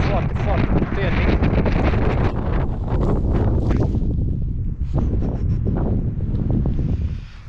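Strong wind buffeting the microphone outdoors on a ski slope, loud roaring gusts that rise and fall, with faint voices underneath.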